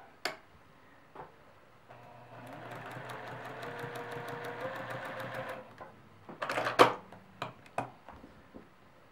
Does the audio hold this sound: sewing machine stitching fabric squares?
yes